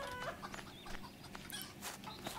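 Chickens clucking in the farming game Farmers Life, several birds fussing at once with short overlapping clucks and calls over a steady low background hum, fairly close and moderately loud.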